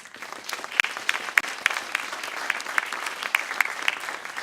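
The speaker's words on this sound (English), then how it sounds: "let's give them all a round of applause" Audience applause at the American Astronautical Society's Wernher von Braun Symposium, honoring a panel: steady moderate clapping from a crowd, with a few sharper individual claps standing out, fairly close and sustained throughout.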